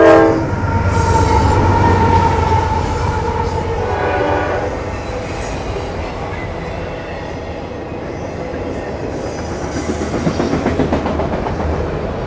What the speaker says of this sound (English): You wanna see the train? Check this out.